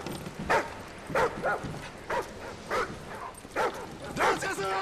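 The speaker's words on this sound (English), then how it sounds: "Enemy attack dogs near your position." Explosive-carrying attack dogs in Call of Duty Modern Warfare 3 Special Ops bark in a steady run of sharp, evenly spaced yaps over low game ambience.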